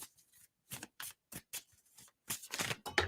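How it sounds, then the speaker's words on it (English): Someone shuffles a Kabbalah-based tarot deck by Ellen Cannon Reed up close, making quick riffling bursts of card edges with short pauses, then a longer flurry at the end. "We're going to keep shuffling."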